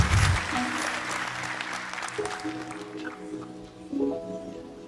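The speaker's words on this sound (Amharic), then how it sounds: "አጨብጭቡና ቁጭ በሉ።" A church congregation applauds through a worship service, a dense steady wash of clapping that swells again near the end, with sustained musical tones and faint voices underneath.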